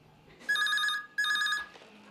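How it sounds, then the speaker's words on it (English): A telephone rings twice at a Childline call centre in Delhi, two loud electronic trilling bursts close by with a short gap between them, then quiet room tone. "Childline coordinator Varun Patak and Kanika Tripathi handle the calls at one of 5 Childline centers in Delhi."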